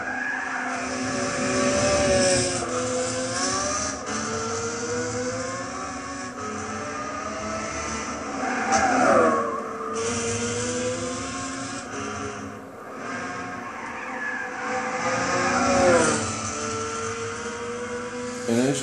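Ferrari 599XX Evoluzione 2012 race car in Gran Turismo 6 on the Nordschleife, its engine note climbing steadily through rising, shifting harmonic sweeps, loud and continuous with brief dips between gears and some tire scrub.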